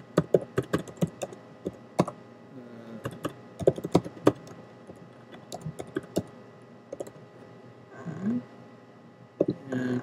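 Someone types an email address on a computer keyboard in quick uneven bursts of close clicking keys, with a brief murmur of speech near the end.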